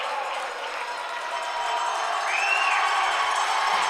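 Crowd at a high school varsity hockey playoff game cheering after a goal: a steady, dense roar of many voices that swells slightly and holds loud for the whole stretch.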